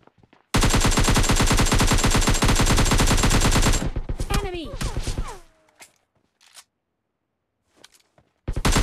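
Sustained automatic gunfire in PUBG Mobile Lite, a loud dense burst of rapid shots lasting about three seconds as an enemy is knocked down, followed by a few scattered in-game sounds and then quiet.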